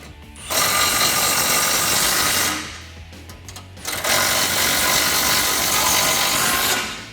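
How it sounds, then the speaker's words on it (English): Ratchet tightening 18mm nuts on a bolt plate for a RAM 1500 Smittybilt M1 front winch bumper, two bursts of rapid, close clicking with a brief pause between. "Now we're just gonna tighten down the 18mm nuts on that bolt plate"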